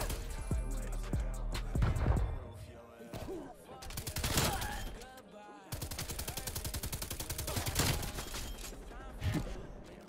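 RPD light machine gun with carbon composite setup in Call of Duty Cold War, loud sustained automatic bursts in several long strings over about ten seconds, with short gaps between volleys and other gunfire mixed in.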